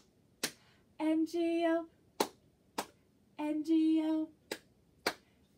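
Sharp single hand claps, clear and close, stand in for missing letters in the Bingo farmer-dog children's song, falling in a steady beat between stretches of sung letters.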